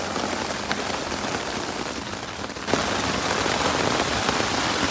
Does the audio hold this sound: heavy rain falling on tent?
yes